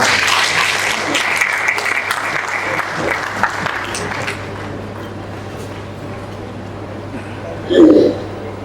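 Indoor audience at a book launch ceremony clapping loudly to welcome the Governor of Maharashtra, dense applause that gradually thins and fades out, followed by a brief voice near the end.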